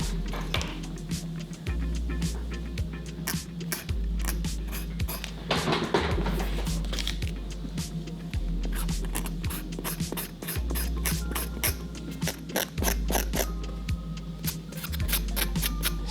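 Steady scraping and scratching across the painted surface of a Charizard-themed Air Jordan 1 sneaker, a continuous rough rasp broken by quick sharp clicks over a low background hum.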